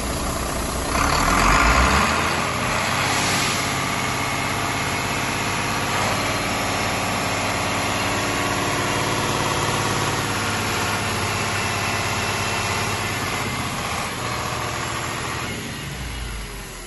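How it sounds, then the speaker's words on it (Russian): An Iveco Stralis diesel truck engine (2002-2006) runs steadily at raised revs, a constant loud drone and vibration with no pauses. "Работа двигателя на повышенных оборотах."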